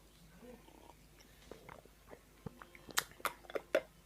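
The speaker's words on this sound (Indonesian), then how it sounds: "Kita seruput dulu." Tea is sipped from a cup in a quiet room: faint handling first, then a cluster of short, close slurping sips near the end.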